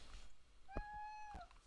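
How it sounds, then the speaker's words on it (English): A cat gives a single clear, close meow, drawn out and then falling at the end, in a quiet room. "yeah, that's what my cat said."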